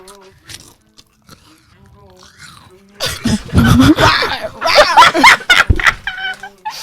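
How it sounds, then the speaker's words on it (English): Someone biting into and chewing a slice of watermelon, close wet crunches and munching after a quieter opening, with voices and some throat noises around it. "I am going to have a watermelon slice."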